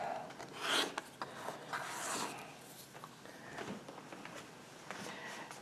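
Folded fabric is cut along its edges with a series of soft, quiet rasping strokes that come in short bursts over several seconds, close by and alone.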